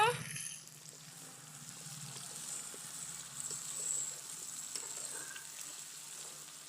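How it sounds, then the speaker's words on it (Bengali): Potatoes frying in oil in a pan for vegetable khichuri, a soft, steady sizzle close by with light stirring scrapes. "এবার আলু ভাজা হচ্ছে"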